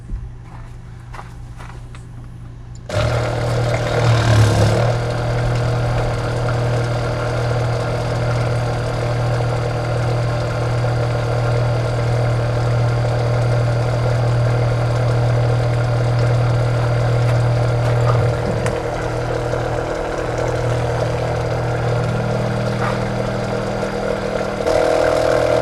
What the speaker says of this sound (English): Alright, we're gonna have Joellen turn the tank on now, the pump on.